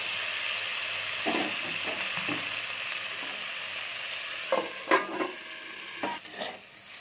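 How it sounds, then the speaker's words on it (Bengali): A constant hiss of okra frying in oil, broken by several scraping stirs of a utensil against the pan toward the end. "ভেন্ডিগুলোকে আমি একটু ভেজে নেবো।"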